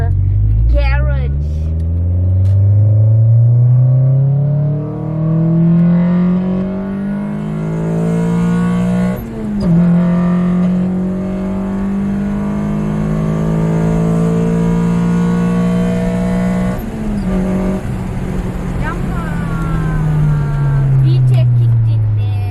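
A Honda engine with VTEC revs hard and repeatedly, its pitch climbing and falling through several long pulls as the VTEC stage engages and the note turns louder and harsher, close and loud and mostly alone.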